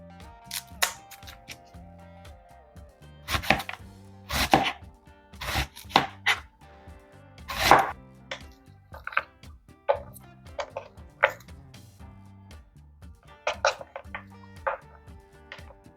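A knife chops an onion on a cutting board in sharp, irregular strikes, some in quick bursts and others spaced by pauses, close and clear.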